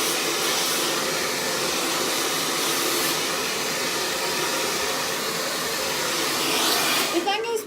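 A hair dryer blasting hair dry, a loud, steady close-up roar of rushing air that holds unbroken for several seconds before faltering briefly at the end.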